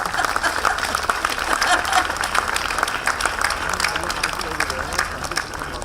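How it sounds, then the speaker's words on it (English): A literary fiction panel receives a round of applause from the audience, with dense, sustained clapping across the room and some voices faintly mixed in. "Please, a round of applause for the most endearing panel we've had on stage."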